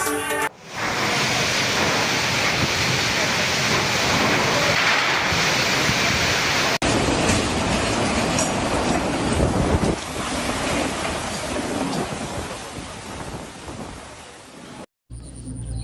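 Strong wind and heavy rain lashing Klaten, Central Java, during a storm, a loud continuous roar of gusts and downpour buffeting close by with no voices.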